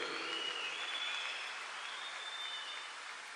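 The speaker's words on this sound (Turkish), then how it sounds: "onları şöyle kocaman bir alkışla tebrik edelim diyorum." An audience applauds staff at a summer sports school opening ceremony in Kepez, a steady wash of clapping at moderate distance that tapers off slightly, with faint tonal sounds above it.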